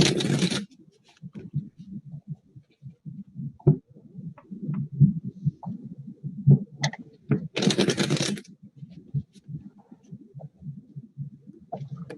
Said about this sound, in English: I'm gonna shuffle again for you, and then we'll pull one card